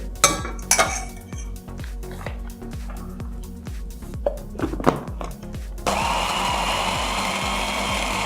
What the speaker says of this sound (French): Et je vais continuer à mixer jusqu'à l'obtention d'une pâte bien homogène.